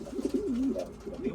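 Pet pigeons or doves kept in separate cages cooing close by, a soft repeated warbling coo rising and falling over about a second and a half, with no speech.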